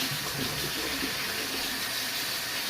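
Water runs steadily from a tap while a face is rinsed with a rag, a continuous close splashing rush with no voices.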